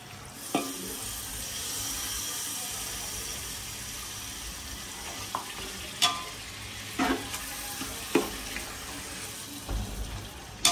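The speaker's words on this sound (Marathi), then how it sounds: "थोडंसं मी मसाल्याचं पाणी घालते." Chicken leg pieces fry in a pan for biryani as spiced masala water is poured in, a steady sizzle and watery hiss punctuated by several distinct stirring clatters and knocks in the second half.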